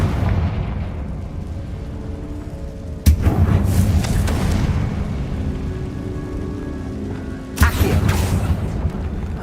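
Two sharp, booming blasts of a Confringo fire spell burst out loud and close in the Hogwarts Legacy video game, the first after a few seconds and the second near the end, each trailing into a rumbling, crackling wash over a steady low background.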